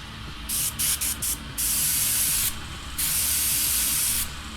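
Airbrush spraying bright Arcane Blue paint onto a miniature, a close, steady hiss that comes in several short bursts and then two longer sustained sprays with brief pauses between.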